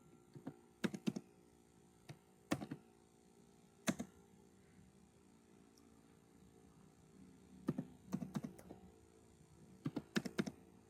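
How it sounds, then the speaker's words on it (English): Computer keyboard typing while writing a deployment configuration file: scattered clusters of crisp, close key taps separated by pauses, fairly quiet overall with no talking. "So I'll type now spec"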